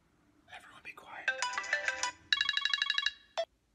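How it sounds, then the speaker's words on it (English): A mobile phone ringtone plays a bright, beeping electronic melody, fairly quiet and close, running for a few seconds before stopping with a final short tone; soft whispering is faintly audible early on. "Looking for a ringtone."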